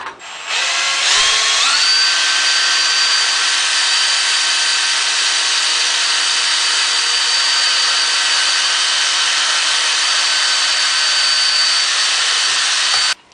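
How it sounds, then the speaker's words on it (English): A power drill drilling holes while building a Pipinhot alcohol burner stove runs at a steady high whine for over ten seconds after a brief start-up, loud and close. "now I'm going to go ahead and drill my single holes across from those"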